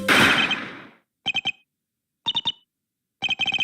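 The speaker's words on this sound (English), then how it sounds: "Was that a gunshot?" Video game sound for a gunshot in Apollo Justice: Ace Attorney: a loud burst of noise fades out over about a second, then three short groups of sharp, rapid electronic pulses follow, with no talk.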